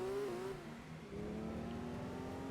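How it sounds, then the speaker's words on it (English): Car engine revving in Gran Turismo 2, a rear-wheel-drive car pulling away with a high-pitched, steady engine tone that climbs through the revs, loud and continuous on its own. "That is a very different engine tone now. It sounds much higher"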